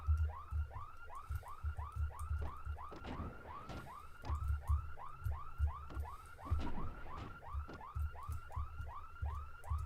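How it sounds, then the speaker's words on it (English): Grating alarm in the Pokemon Colosseum video game, a repeating electronic whoop cycling steadily over and over at a fast, even rhythm, continuous and fairly loud with no talk. "God, I hate the sound of this place. When they turn on this alarm."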